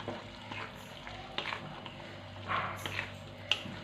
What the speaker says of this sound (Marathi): ते छान असे या मसाल्यांमध्ये परतून घ्यायचे 1 मिनिटभरासाठी.